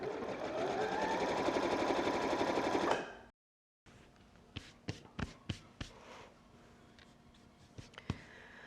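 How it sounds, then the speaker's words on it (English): A home sewing machine runs a close, small zigzag stitch onto a Christmas gift bag, a steady loud whirr for about three seconds that stops abruptly, followed by quieter scattered taps and clicks. "we're just going to zigzag stitch that to the front of the bag"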